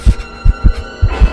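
A deep, thudding heartbeat sound effect in an animated horror story, six close low pulses arriving in quick paired lub-dub beats, loud and up front with no voices.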